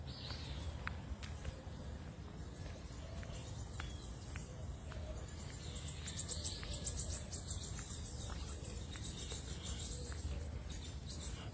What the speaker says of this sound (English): Let you hear the birds and stuff, so here we go.